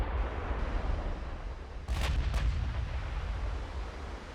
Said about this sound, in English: there's our gunfire.